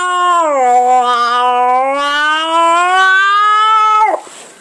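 A long, drawn-out meow voiced by a person imitating a cat, rising slightly and held steadily for about four seconds before breaking off abruptly.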